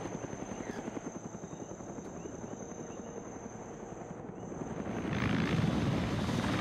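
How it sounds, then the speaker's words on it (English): A Huey helicopter's rotor thumps in a steady rapid chop as it circles in a video game, holding at a moderate distance and then swelling louder near the end as it passes closer. "And the Huey's still circling."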